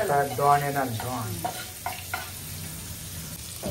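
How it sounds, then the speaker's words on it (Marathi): Pomfret fish frying in oil on a hot tawa, a soft sizzle running beneath a voice that speaks over most of the moment. "याला थोडंसं तेल टाकून मस्त आता पापलेट फ्राय करायला बघा"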